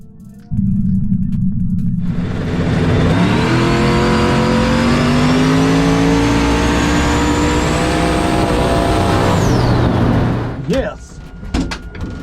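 A drag race car on a backside run at Dig or Die 2022 roars loud and close, its engine note climbing steadily for about ten seconds before cutting off abruptly.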